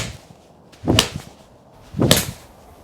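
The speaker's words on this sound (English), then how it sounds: "let's hit my 5-iron in the Ping G Series Game Improver" A Ping G Series game-improvement 5-iron swings twice, each one a sharp whoosh and crack of clubface meeting ball, about a second apart, over quiet outdoor background.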